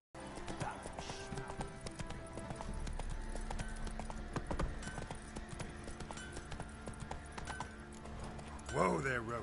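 Hooves of Roach, a horse in the Witcher video game, clip-clop steadily at close range amid game ambience and background chatter, with a brief louder burst near the end.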